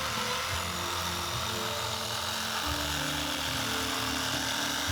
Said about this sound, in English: using the Sawzall to trim out the rib cage to expose some of that meat that's under there